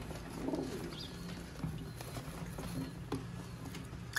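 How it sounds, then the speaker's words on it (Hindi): Large pigeons coo softly in a loft, low murmuring calls near the start with faint flutters and patter over a steady, noisy background. "ये सब बड़े कबूतर"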